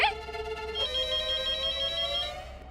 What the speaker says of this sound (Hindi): अब मोबाइल के जमाने में घर के लैंडलाइन में कौन फोन करता है?